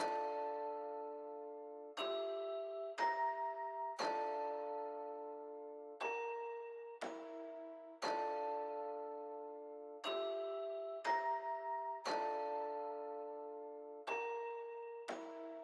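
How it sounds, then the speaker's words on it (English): A vintage-toned bell melody made in FL Studio, clear struck bell notes ringing out one after another at a slow steady pace, each decaying before the next, alone and with no voices. "the finished bell melody is sounding like this"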